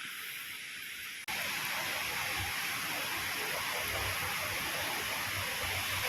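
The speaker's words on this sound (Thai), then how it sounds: "โอ้ดูน้ำไหลคุณผู้ชมเดี๋ยวให้ดูน้ำไหลด้วยวันนี้" Water pouring down from the Phanom Dong Rak mountains makes a steady, dense rushing wash that jumps louder after a brief quieter start and then holds constant, with no talk over it.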